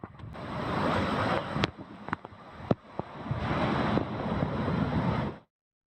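Rough sea surf pounds the shore at Lemur Beach in Kanyakumari, a steady broadband roar of breaking waves with brief sharp splashes and gusty swells, heard up close with no voices.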